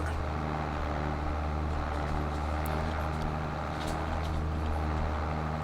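Steady low engine drone of a tractor mowing in Farming Simulator 22, running continuously, with a broad rumbling hum and faint mechanical rattles throughout, no talking.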